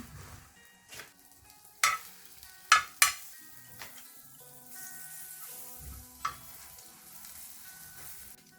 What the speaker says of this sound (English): You have to toast the bread slices in butter.